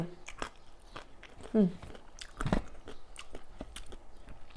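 Crunchy sour mango is bitten and chewed up close, with a few sharp crisp crunches and softer chewing, under and between a person's talking.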